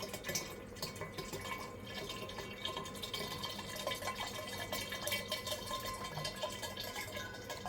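Homemade grape wine trickles and drips through a double filter, a soft continuous liquid patter with faint splashes, quiet and close with no voices.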